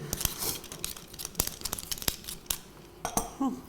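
Fish cakes being cut into pieces with cutlery on a plate, a series of sharp clinks and scrapes of metal against crockery, close and irregular, with no one talking.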